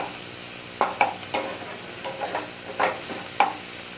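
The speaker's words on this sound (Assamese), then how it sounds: "এতিয়া এইখিনি ভালদৰে মই ৰংচুৱা হ'লৈকে ভাজি ল'ম" Raw banana pieces frying in oil until browned give a soft continuous sizzle, broken by several sharp scraping strokes of a spoon against the pan, close up with no talk.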